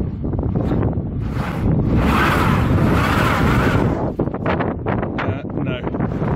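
A Subaru stuck in deep snow, in reverse, its engine revving hard in a loud, sustained roar mixed with heavy wind buffeting on the microphone, then easing into rougher, uneven surges.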